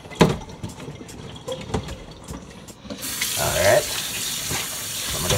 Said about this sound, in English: Strain off this water now guys.